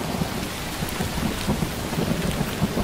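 Heavy rain pours down steadily with rolling thunder mixed in, a dense continuous wash of noise from start to end with no voices.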